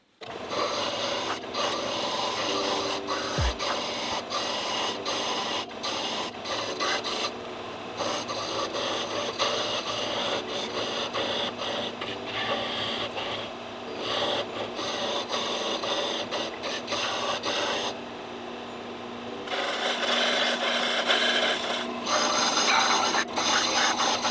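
A band sander shapes wooden legs for a rustic yard reindeer, giving a continuous loud rasping whir with grinding surges as the wood presses against the belt, running steadily for over twenty seconds.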